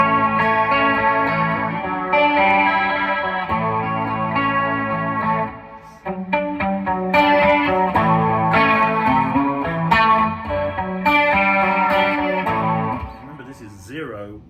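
Aiersi PRS18 electric guitar on the bridge pickup, played clean at full volume with tone halfway, bright ringing chords and single notes strummed in a loose rhythm, with a brief pause midway and a pitch bend near the end.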